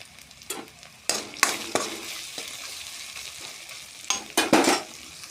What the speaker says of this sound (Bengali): তারপর দিব আদা বাটা, দিয়ে নাড়তে থাকবো।